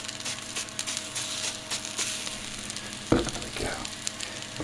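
Veggie sausages browning in a pan already hot from cooking mushrooms and onion, a steady close sizzle with a brief louder burst of spitting partway through, no talking.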